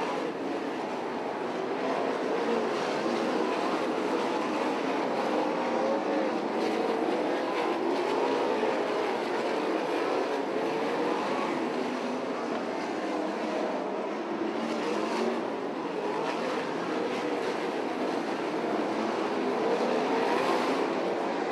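Race cars at the Beaver Dam track roar past in a dense, continuous engine drone that stays loud and steady throughout, with no voices over it.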